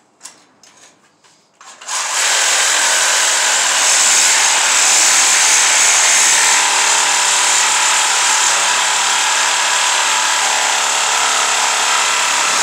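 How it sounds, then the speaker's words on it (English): A Sawzall reciprocating saw cuts steadily and loudly through a Ford F250 rear axle, a continuous harsh buzzing grind after a couple of seconds of quieter handling noises. "Apparently I am new to this whole Sawzall thing."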